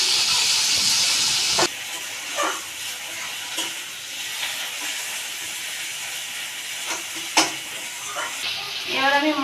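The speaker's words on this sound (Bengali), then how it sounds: "এবার আমি টমেটো কুচিগুলো দিয়ে দেবো।" Chopped tomatoes sizzle in a pan of fried onions, a steady close hiss of frying with occasional stirring scrapes and bumps, the sizzle briefly jumping louder as the tomatoes hit the hot oil.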